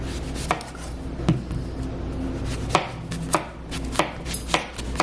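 A knife chops zucchini on a cutting board in a home kitchen, with about eight crisp, uneven chops ringing out clearly in a quiet room.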